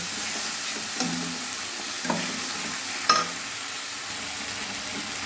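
A spice paste with Kashmiri chilli powder and turmeric sautés in hot oil in a pan for a koi fish tel jhal, giving a steady close sizzle with a few soft stirring scrapes. No one talks.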